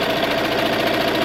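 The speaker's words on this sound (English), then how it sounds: "Now I can continue sewing the binding down." A sewing machine stitches down quilt binding with a steady, fast mechanical hum and rapid needle clatter, close and continuous.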